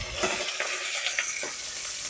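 Bacon sizzles and crackles steadily in a pan on a stovetop, a constant bright hiss with small pops and faint stirring or scraping touches, no voices.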